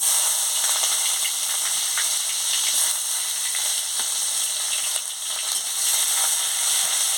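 Chopped onion hits hot oil already seasoned with whole cumin and bay leaf, giving a loud, continuous hissing sizzle with light crackles throughout, close up and with no voices.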